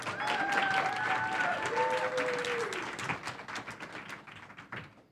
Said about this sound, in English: a round of applause for Molly Seidel